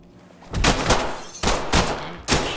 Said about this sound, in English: Shot through the window.